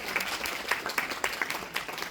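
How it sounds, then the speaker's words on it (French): Audience applause at a cosplay contest and awards ceremony, a dense steady patter of many hands clapping in a hall, moderately loud and continuous with no voices over it. "On peut applaudir."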